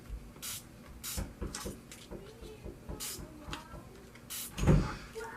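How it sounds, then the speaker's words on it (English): A hair spray bottle spritzes water onto paper flower petals, several short hissing bursts spaced irregularly over quiet background handling noise, with one louder rustle near the end. "I'm just doing a little spritz on these."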